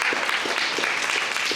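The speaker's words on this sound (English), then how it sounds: "give yourselves a round of applause" An audience at a Black History teach-in day of action gives a round of applause, a brief burst of steady, dense clapping from a crowd.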